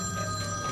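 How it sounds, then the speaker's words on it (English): A mobile phone rings with an incoming call inside a police car on a British motorway stop, a short electronic ringtone with steady tonal notes, fairly clear and alone. "Your boss man's ringing you."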